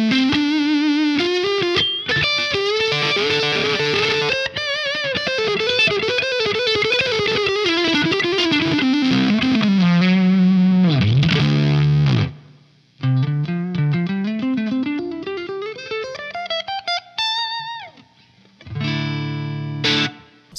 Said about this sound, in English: That's the Pompeii Fuzz from Big Monk Electronics